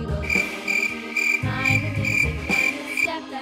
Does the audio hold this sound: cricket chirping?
yes